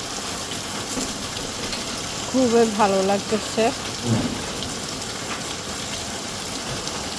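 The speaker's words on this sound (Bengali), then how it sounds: "দেখেন কি সুন্দর বৃষ্টির পানিটা পড়তেছে" Steady rain falls outdoors as an even, close wash of patter for the whole stretch, while a person speaks briefly partway through.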